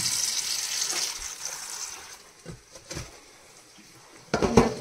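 Chopped mixed green vegetables being washed with water in a kitchen, with a steady run of water and splashing, plus a few soft knocks and sloshes of the vessel that grow louder toward the end.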